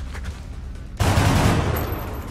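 Gunfire bursts out in the video game XCOM: Enemy Unknown: a loud, sudden burst of shots that holds for over a second after quiet game ambience, with no one speaking over it.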